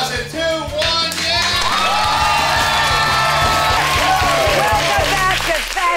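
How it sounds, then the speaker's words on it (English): A talk-show studio audience bursts into loud sustained applause, cheers and whoops over upbeat music, the crowd noise holding steady throughout. "Huge applause in 2, 1,"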